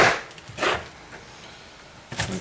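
Onions are chopped with a knife on a board while cooking homemade chili, giving three sharp, close chops spread unevenly over a couple of seconds.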